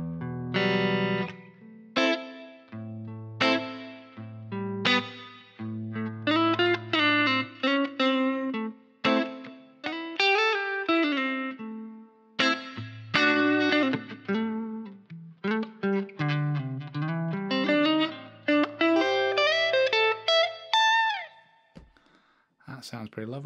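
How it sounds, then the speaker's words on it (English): A PSP Pianoverb reverb plugin processes a sound transposed down, giving a run of resonant, ringing pitched notes and chords with metallic reverb tails over about twenty seconds. "a nice simple reverb to use, and then we could try something where we let's just try transposing that down"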